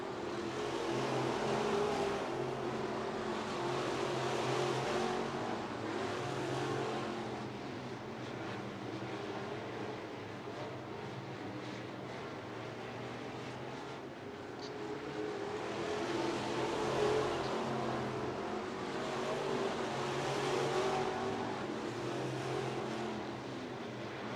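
Sport mod race cars in a heat race on a dirt track, a continuous roar of engines swelling and fading as the pack passes, heard from a distance with no voices.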